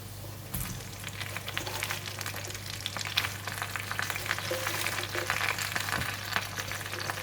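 Lettuce and crab balls stir-fry in a small pot, giving a constant close sizzle with occasional stirring clatter, no talking over it.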